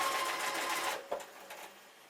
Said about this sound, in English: we're just going to stitch that just to secure first of all